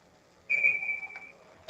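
A referee's whistle at an ice hockey game between the Canton Akron Jets and the Rangers, one sustained shrill blast of about a second, fairly near and clear, followed by a brief clatter at the end.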